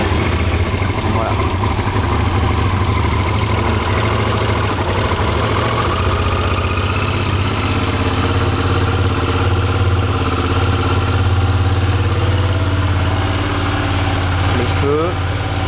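A Yamaha TRX 850 motorcycle idles steadily right after a cold start on the choke, a loud, even, low rumble that holds throughout with a few faint clicks near the end.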